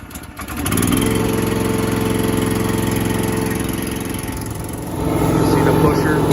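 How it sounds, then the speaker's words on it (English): A small engine on a Hudson HDH5 wood-processing machine catches and settles into a loud, steady running drone close by, its pitch dipping slightly midway and then rising again near the end. "Turn your throttle up a little bit so she starts."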